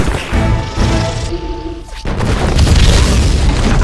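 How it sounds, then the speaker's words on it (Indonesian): A gunpowder charge is shot and blows up in a pirate film scene, a heavy booming explosion with a rumbling, crashing tail that drops briefly before a second loud wave of blast and debris fills the rest. "menembak bubuk mesiu tersebut sehingga meledak dan melukai Kraken"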